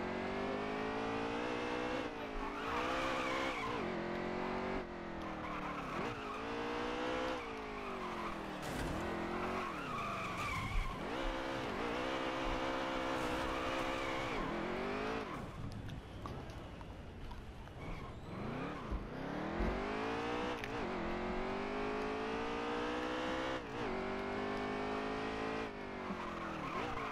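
A car in the Drunk Driving Simulator video game revs hard and skids with screeching tires, a loud, continuous engine roar rising and falling through gear changes across the whole stretch.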